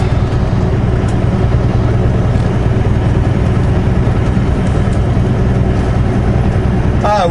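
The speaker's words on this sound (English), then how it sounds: "With the engine brakes on." A Kenworth W900L truck with a 500 hp engine, engine brake engaged, gives a loud, steady low rumble and drone throughout, with faint road noise and no talk.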